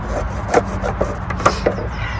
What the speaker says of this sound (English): But sawing planks of wood